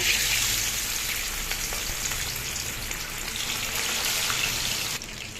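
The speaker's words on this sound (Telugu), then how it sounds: "మనం ఆయిల్ మరిగిందండి, వేస్తున్నాం చికెన్ పీస్." Chicken leg pieces fry in hot oil in a pan, giving a dense, steady, close sizzle with crackling pops that continues throughout and drops slightly at the end.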